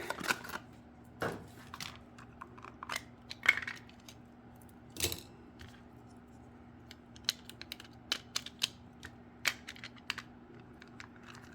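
Scrapbooking tape runner being refilled, giving scattered small plastic clicks and snaps, a few sharper taps standing out against a quiet room hum.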